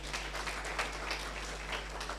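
Audience clapping at a new students' orientation, a soft, steady patter of many hands heard at some distance over a constant low hum, with no talk.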